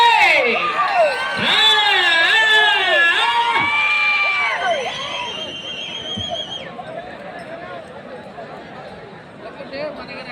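A crowd of farmers at a senior bull-pulling race in Alladupalle cheers, shouting and whistling loudly with shrill rising calls, then settles into a steady murmuring din of voices.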